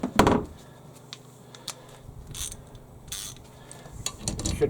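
A ratchet loosening a bolt on a Hyundai HYM510SPE lawnmower, with short clicking pawl bursts and metallic taps spaced irregularly between quiet gaps, close up.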